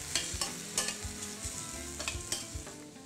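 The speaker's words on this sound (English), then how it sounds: "we'll toss it up and we'll throw in our broccoli. And we're gonna cook for 1 or 2 more minutes until the beef is nicely browned" Beef and broccoli frying in a hot pan, a steady sizzle broken by repeated scraping and tossing clatters, fairly close and with no talking.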